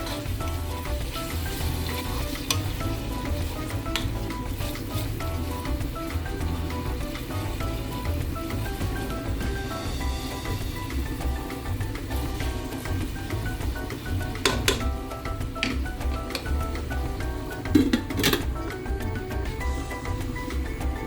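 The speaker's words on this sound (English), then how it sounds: "Stir the onions occasionally so that they don't get stuck to the bottom" Onions fry in a pan for biryani with a continuous close sizzle and occasional scraping stirs, ending with a couple of louder clinks and knocks.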